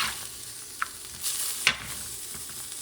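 Seafood rice with artichoke hearts sizzles over medium-high heat in a Spanish-style pan, a low steady fry with a few sharp clinks and scrapes of stirring, close and without talk.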